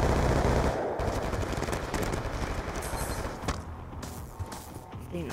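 Rapid automatic gunfire in Black Ops 2 rattles almost without pause, dense and loud through the whole stretch, with bursts continuing under faint game noise.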